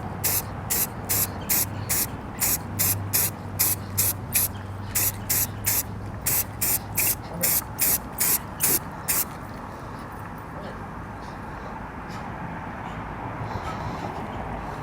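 Chrome spray paint is applied to a 3D print in a series of short, rhythmic hissing bursts from an aerosol can, roughly a dozen quick sprays, followed by a quieter steady background hum.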